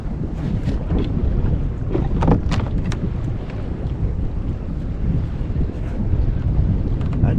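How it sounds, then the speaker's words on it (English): Strong wind buffets the microphone on a lake while fishing from a Pelican Bass Raider boat, a loud continuous rumble with gusty swells throughout. "That wind is blowing."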